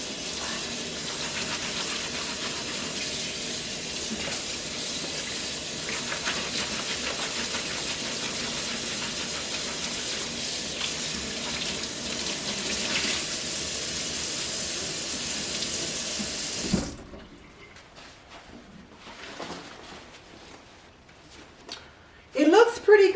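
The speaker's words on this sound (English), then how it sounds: "We're going to give it a rinse and a little scrub." Running tap water rinses a fabric barbecue sauce stain, a steady loud broadband rush with scrubbing for about seventeen seconds before it stops abruptly, leaving quiet handling and a few brief knocks at the end.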